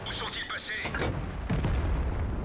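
A heavy tank cannon booms in World of Tanks as the AMX 50 100 fires on an enemy, one sharp blast with rumbling tail and busy battle noise, loud and close over game sound.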